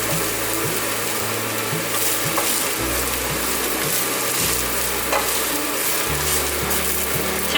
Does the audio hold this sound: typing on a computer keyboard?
no